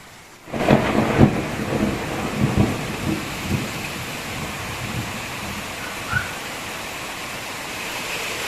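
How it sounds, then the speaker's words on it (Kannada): Heavy rain pours at night with a loud rolling thunderclap near the start, followed by lower rumbles and a continuous dense wash of rainfall. "ರಾತ್ರಿ ತುಂಬಾ ಜೋರ್ ಗುಡುಗು ಮಳೆ ಆಗಿತ್ತು."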